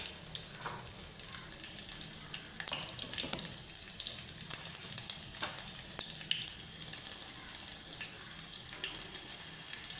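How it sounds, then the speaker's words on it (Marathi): Garlic sizzles in a small ladleful of hot oil, an even crackling hiss that runs the whole time. Occasional sharp ticks and pops rise above it, and no one speaks. "एक छोटीशी पळी तेल त्याच्यामध्ये आपण टाकूया लसूण मध्ये"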